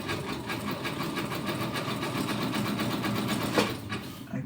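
A sewing machine stitches elastic onto striped fabric in a fast, steady, close mechanical rattle that runs throughout, with a small clunk near the end as it slows.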